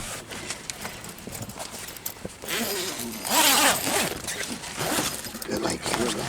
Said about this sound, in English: Let me zip this here.